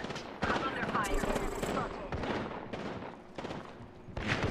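Gunfire in the Apex Legends battle royale game, a burst of overlapping shots with sharp onsets spread across the moment, fairly loud and mixed with busy in-game effects.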